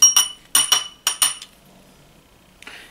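Mixed spangles clink sharply as a metal cuticle spoon scoops them, three quick paired bursts of bright chinking close up, then a pause and a softer rustle near the end.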